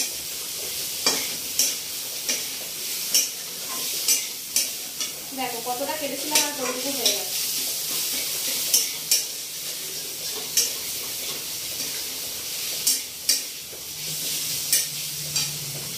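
Steady sizzling of food frying in a pan, with repeated scraping clicks of a spatula stirring every second or so; a voice speaks briefly.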